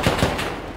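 Gunfire in the survival game Rust, a quick burst of two or three loud close shots in under a second, with no talk over it.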